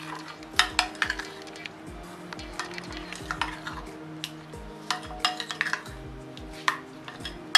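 A spoon stirs fruit cream in a bowl, giving irregular clinks and scrapes against the dish at close range.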